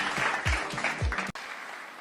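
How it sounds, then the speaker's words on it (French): An audience applauds for Ibrahim Traoré, a dense, loud wash of clapping with a few heavier low thumps, cutting off abruptly partway through before a quieter noisy tail. "Applaudissez pour Ibrahim Traoré."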